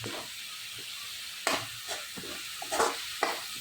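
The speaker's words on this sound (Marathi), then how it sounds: "सर्व मिश्रण छान परतून घेऊया" Ginger-garlic paste, tomato puree, ground coconut and onion paste sautéing in hot oil, a steady close sizzle broken by several louder stirring scrapes as the masala is turned in the pan.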